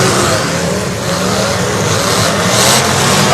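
A demolition derby car's V8 engine held at full throttle, a loud, sustained roaring rev with a rough, steady drone and slight swells, close by at a derby track.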